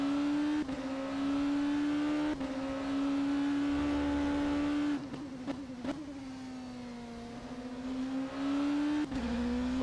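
Oreca LMP2 race car in the rFactor 2 sim racing game, a loud sustained engine drone with shifting pitch and brief sharp blips as the car slides around the Interlagos circuit.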